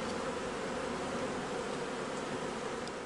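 Honey bees buzz inside a hive, a steady, soft, continuous hum with no pauses or other sounds.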